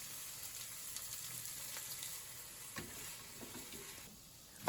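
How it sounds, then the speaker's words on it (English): Sliced pork coated in flour sizzles in hot oil in a frying pan, a steady quiet crackle with occasional sharper pops. "Heat some oil in a frying pan and spread out the pork."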